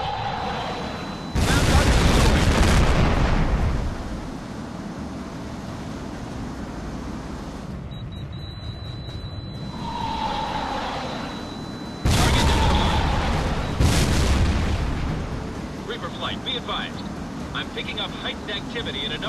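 Bombs blasting rebel warehouses in Tom Clancy's HAWX, flown in an F-117 stealth fighter: two heavy, booming detonations several seconds apart, each swelling loud and rolling off under a steady engine drone, with radio voices talking in between.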